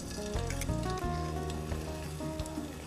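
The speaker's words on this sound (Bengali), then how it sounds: "ফার্স্টে রসুন কুচি, পেঁয়াজ কুচিটা ভেজে নিয়ে" Chopped onion and garlic fry in soybean oil with a soft, steady sizzle, low and faint beneath louder background music.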